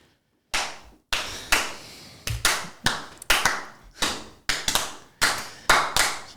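An audience gives a dozen or so sharp, separate claps at an uneven rhythm, loud and close, with brief silent gaps between them and no voices.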